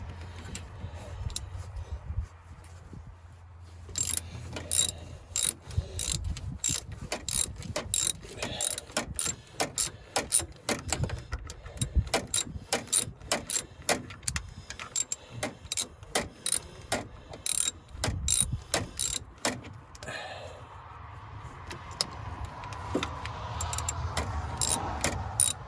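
A ratchet works loose the nuts on the clutch studs of a 1965 White tractor, giving long runs of rapid, sharp clicking up close and loud, with brief pauses between bursts and scattered metallic handling noises.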